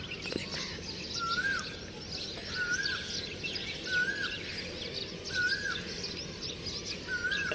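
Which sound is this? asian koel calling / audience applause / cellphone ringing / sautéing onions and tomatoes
asian koel calling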